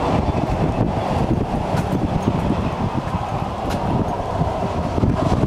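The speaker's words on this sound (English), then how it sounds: "Really windy out here today." Strong wind roars and buffets steadily across the microphone outdoors, dense and loud throughout with no talking.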